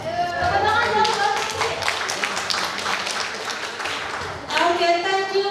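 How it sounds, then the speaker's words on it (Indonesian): Hands clap together from a small audience at a casual coffee-tasting event, lively but brief bursts mixed with talking voices that continue over and after the clapping. "Tepuk tangan dong, Mbak."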